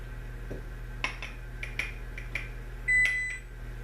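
A kitchen oven signals it has preheated with a short, clear electronic beep near the end, amid scattered soft clinks of dishes and utensils over a low steady hum.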